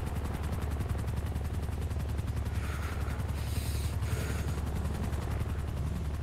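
A helicopter in a roleplay video game beats steadily overhead, its rotor chop a rapid, even pulse over a heavy low drone, loud and continuous throughout with no voices.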